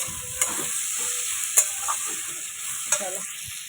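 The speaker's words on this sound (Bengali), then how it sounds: "একটু ভাজা ভাজা হলে একটু আলু ভাজা তুলে রাখবো" Potatoes seasoned with turmeric and salt fry and sizzle in a pan for school-tiffin fried rice, with steady crackling under a few sharp stirring scrapes and clinks, close and fairly loud, no talking.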